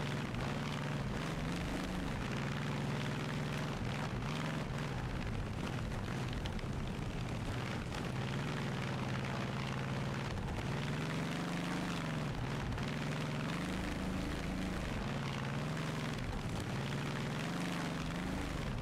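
A supercharged Hispano V12 engine in BeamNG.drive roars continuously at a loud, sustained level with a heavy, rumbling tone and slowly rising and falling pitch, with no pauses.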